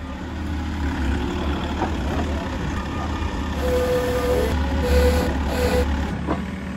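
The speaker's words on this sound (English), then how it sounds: "The big truck is here" Big truck idling at a caisson construction site, a steady low engine rumble with faint beeps and distant machinery clanks, no talk.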